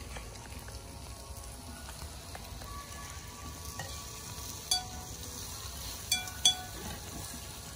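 Pork sizzles on a Thai moo kratha grill, a quiet steady crackle of frying fat with a few sharper pops near the end.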